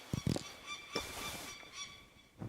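A bird in the medieval role-playing game Kingdom Come: Deliverance 2 lets out shrill, honking shrieks: a quick double cry at the start, scattered calls through the middle and another near the end, over a faint steady background.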